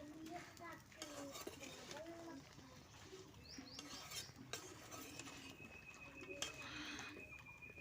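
Soft stirring and light frying of jujube pickle with five-spice in a pan, a quiet scraping texture with faint sizzle and occasional background bird calls.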